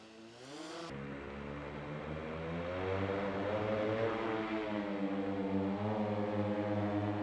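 A Skydio 2 drone lifting off, its rotors spinning up into a steady, rising propeller whine and buzz that builds and holds close by.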